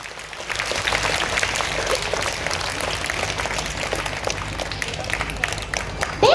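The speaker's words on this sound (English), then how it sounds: "please give a huge round of applause for all that have given the correct answers today" Audience of children and staff at a school assembly claps steadily and energetically, a dense crackling applause with scattered voices mixed in.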